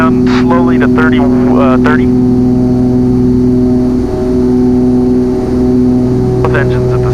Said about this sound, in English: Both engines at the same time.